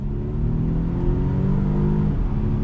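A Volvo S90 luxury sedan, supercharged and turbocharged with electric motors and all-wheel drive, accelerates on throttle, giving a steady, close engine drone that rises slightly in pitch over a few seconds.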